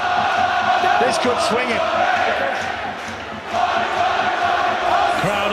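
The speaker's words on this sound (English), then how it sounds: "Crowd underneath us urging Warrington on." A rugby league crowd at a Warrington versus Bradford match roars and bellows continuously, urging Warrington on, loud and sustained with a brief dip midway, while a commentator speaks over it.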